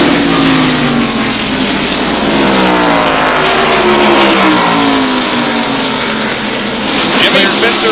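Stock cars roar around the track at the 1991 First Union 400, a loud, dense wall of engine noise with several cars' pitches overlapping and sweeping past throughout.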